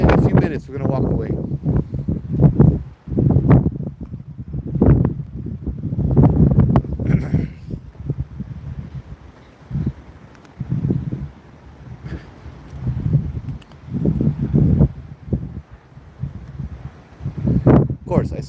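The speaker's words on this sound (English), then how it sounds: "Now the wind's coming in here too." Wind gusting outdoors at the Pali lookout on the windward side, buffeting the microphone in rough low rumbles between stretches of someone talking.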